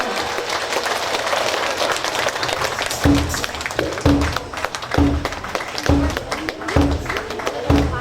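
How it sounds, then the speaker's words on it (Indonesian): Crowd applause at a mosque inauguration ceremony in Cilacap, Indonesia, loud clapping mixed with rhythmic tapping beats that recur about once per second under the general clatter. "Beri tepuk tangan yang meriah."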